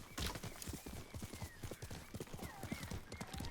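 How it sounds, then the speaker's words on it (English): Horse hooves clip-clop in a steady, brisk rhythm while riding in the video game Ghost of Tsushima, loud and close throughout with a faint whinny-like tone mixed in. "Let's do some horse riding very quickly."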